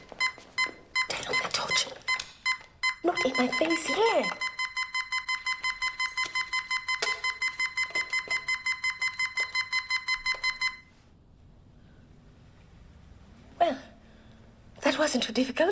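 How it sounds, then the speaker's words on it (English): A burglar alarm panel beeps in a rapid, steady train of loud electronic pulses for several seconds, then stops abruptly. Voices speak over and around the beeping before and after it cuts out. "we must run as fast as we can to the buttons that turn off the alarm"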